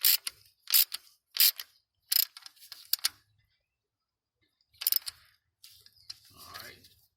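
Ratchet driving in the supercharger belt tensioner bolt on a Hellcat engine swap: several short bursts of clicking, close and fairly loud, a pause, then a final burst and some softer handling noise.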